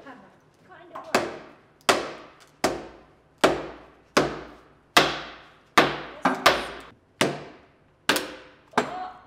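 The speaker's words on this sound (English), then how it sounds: "We need a hammer." A hammer strikes about a dozen times at a steady pace on a log-splitting rig, each hit a sharp bang with a short ringing tail.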